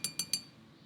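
A glass beaker set down on a lab countertop, producing three short, bright clinks in quick succession, close and crisp, followed by quiet.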